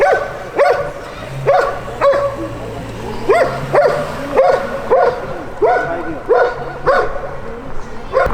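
Dogs bark near Hagia Sophia in Istanbul, about a dozen sharp barks in a steady, repeated rhythm, loud and close, with a faint whimper and no clear talking.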